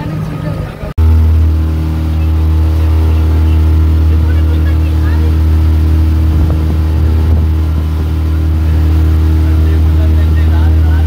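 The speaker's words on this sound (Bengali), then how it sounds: "আমাদের বোট এখান থেকে ঘুরে গেল।" A tour boat's engine on a Kerala backwater near the Tamil Nadu border as the boat turns, a steady close low drone with a tonal hum that starts after a brief cut and runs continuously.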